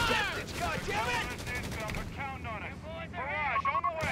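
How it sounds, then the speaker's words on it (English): Artillery barrage and rapid gunfire crackle continuously in Company of Heroes 3, with dense overlapping shots and booms in a late-game armored battle between US forces and Wehrmacht, under radio-style voices shouting orders. "Barrage, on the way!"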